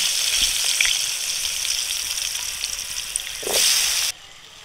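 Washed potatoes frying in hot oil seasoned with salt and turmeric, a loud dense crackling sizzle that surges briefly near the end before cutting off abruptly.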